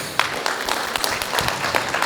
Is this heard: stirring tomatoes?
no